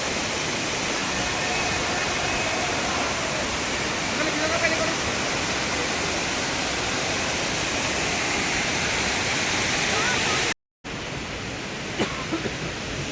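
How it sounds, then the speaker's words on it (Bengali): Tamda Ghumar waterfall near Jagdalpur, Chhattisgarh, roars as a loud, steady broadband rush of falling water, unbroken apart from a brief cut near the end; faint voices sit under the noise. "আমরা এখন চলে এসেছি পুরো তামদা ঘুমার ওয়াটারফলস"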